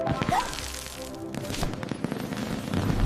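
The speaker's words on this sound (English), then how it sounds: "F is for fireworks." Fireworks burst in a quick crackling volley, loud close bangs and sharp popping bursts tumbling over one another.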